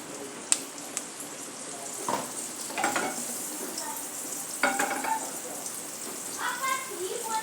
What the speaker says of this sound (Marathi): पुन्हा बटर मेल्ट होऊन देऊया.